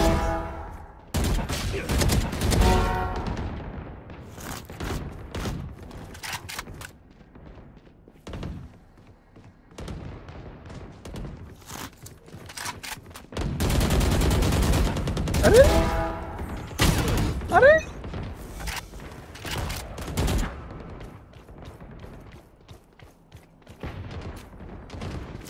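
Gunfire in Red Dead Redemption 2 rings out in bursts of sharp shots and thuds, loud and spread unevenly through the stretch with quieter gaps between volleys and brief mechanical clicks.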